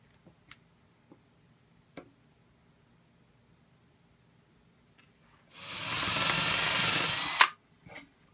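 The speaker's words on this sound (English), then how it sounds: "send that 1/8 inch drill bit down just about 1/4 of an inch into" A few scattered taps and clicks, then a power drill with a 1/8 inch bit whirs steadily for about two seconds as it bores a quarter inch into a wooden cigar box guitar neck, stopping abruptly.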